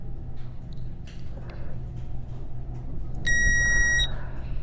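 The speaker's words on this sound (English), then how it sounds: "It's a very loud beep." A loud, piercing electronic beep sounds for under a second in the horror video game Blink: The Last Night, rising sharply above a quiet, low ambient hum.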